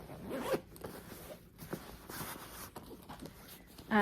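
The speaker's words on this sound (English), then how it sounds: "Then you've got a zipper area here." A zipper on a Bagolini purse is pulled open in a few short rasping strokes, close and crisp, with faint handling noises between them and no talking.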